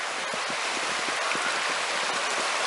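Small forest stream running over little rapids, a continuous close rush of water with soft splashing textures and no voices.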